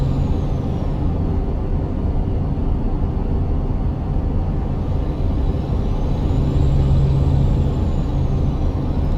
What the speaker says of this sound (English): Oh, I love the sound of this truck.